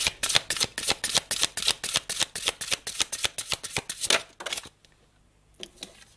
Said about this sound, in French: Allez, on va tirer une carte.